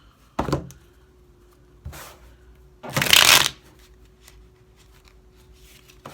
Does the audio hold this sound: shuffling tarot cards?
yes